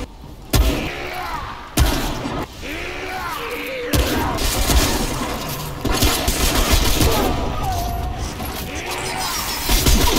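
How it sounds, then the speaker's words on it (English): Gunfire in the video game Remnant, sharp sharp shots cracking out at intervals over a busy game soundscape of clatter and effects, loud and close. "Shoot the gun."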